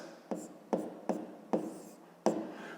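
A pen writes on paper in five quick separate strokes, each a short scratchy tap fading fast, close and quiet with no talk.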